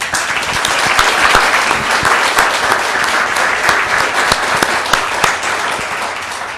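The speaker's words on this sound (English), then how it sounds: "how about a round of applause for our candidates?" Loud, sustained audience applause for candidates at a city council candidate debate, dense clapping from a crowd holding steady throughout.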